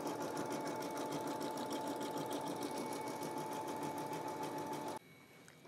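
A Brother embroidery machine stitching text in 40 weight rayon thread runs with a loud, steady, fast needle clatter and motor hum close by, then stops abruptly near the end.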